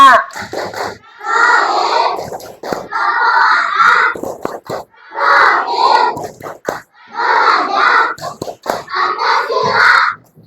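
Classroom children in Indonesia chant the P5 clapping chant together in loud, rhythmic bursts, their shouted voices and hand claps arriving in short repeated phrases separated by brief pauses.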